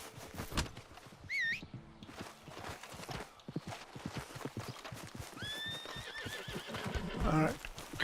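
A horse in a video game whinnies twice and its hooves clip-clop steadily underneath, with someone talking over much of it as he rides.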